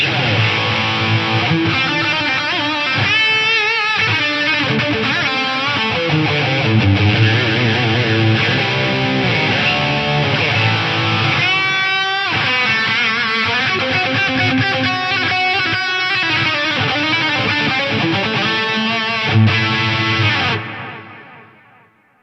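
An electric guitar plays through an Eventide Eclipse with lush quarter-note and dotted-eighth delays and reverb, notes repeating and washing together into a sustained shimmering texture before fading out at the end.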